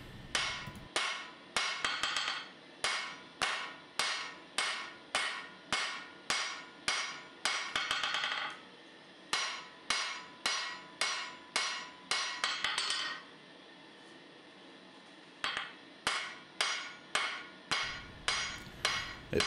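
Steady rhythmic hammer blows ring on an anvil as a full tang knife blade is forged, the blade held at an angle to protect the plunge cut; close, loud strikes in regular bursts with short pauses between runs.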